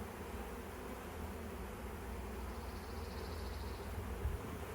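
Honeybees drone around an open hive in an apiary during requeening, a soft continuous buzz that stays steady and fairly faint throughout, with no voices.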